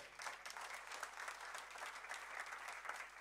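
A church congregation applauds together, a steady wash of clapping hands that stays fairly faint and even from start to finish, without speech.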